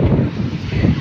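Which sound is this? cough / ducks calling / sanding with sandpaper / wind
wind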